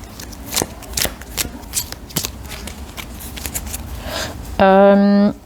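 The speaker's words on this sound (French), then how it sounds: "Je les ai battus, j'ai tout mélangé" Tarot cards are riffled and shuffled close up in a series of quick papery bursts, with a brief tonal chime near the end.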